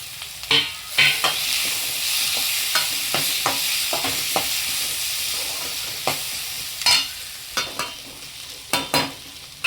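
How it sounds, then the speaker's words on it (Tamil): Tomatoes sautéing in a pan, a steady sizzle with repeated sharp scrapes and clicks of a spoon stirring, close and fairly loud, no talking. "தக்காளி போட்டு வதக்கி விட்டதுக்கப்புறம் ஒரு தட்டு போட்டு மூடி வச்சுருங்க"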